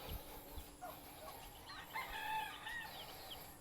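Chickens clucking and a rooster crowing at a backyard chicken coop, heard faintly at a distance, with a few short calls and a crow breaking over a quiet background.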